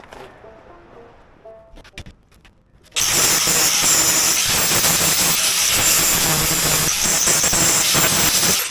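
A grinder cutting the corner off a propeller guard starts after a few quiet seconds of faint handling noises, then screams loudly and continuously with a harsh, hissing abrasive whine.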